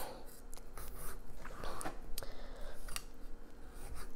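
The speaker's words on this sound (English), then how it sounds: "First thing that we're going to do is cut off the top of the pumpkin." A knife sawing through the top of a whole pumpkin, a close, faint, irregular rasping and scraping with sharp little clicks, continuous for a few seconds.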